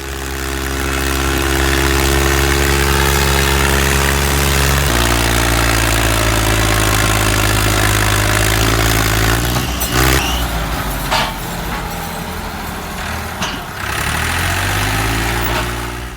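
A tractor engine idles with a heavy, steady rumble, shifting pitch partway through, then revs and labors with rising and falling pulses before settling again, loud and close.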